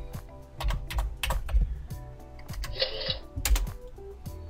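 Computer keyboard typing during a web page setup, with quick irregular bursts of keystrokes and short pauses, close and clear with no talking.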